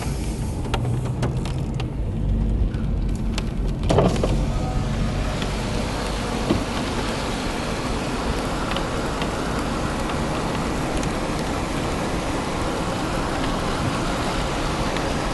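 Steady rain falls in a continuous broadband hiss among trees in a metropark, with a few brief louder knocks early on and no voices.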